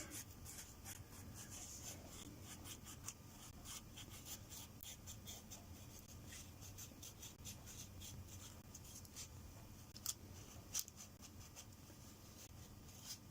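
Sandpaper rubbing back and forth over a homemade workpiece, a steady soft scratchy rasp that runs throughout at low level, close by, with a couple of small knocks near the end.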